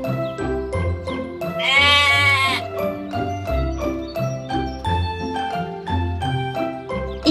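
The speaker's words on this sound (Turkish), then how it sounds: "Koyun." A cartoon sheep gives one wavering, clear bleat over bouncy, jingly children's cartoon music that plays throughout.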